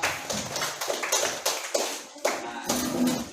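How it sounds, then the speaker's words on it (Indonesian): A group of schoolchildren in a classroom clap their hands together in uneven bursts of close, loud claps, with a few voices over them. "Tepuk tangan untuk kita semua."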